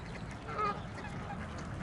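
Domestic ducks and geese kept by a man beside a flash pond, honking and quacking as a faint, steady background chorus with one brief louder call near the middle.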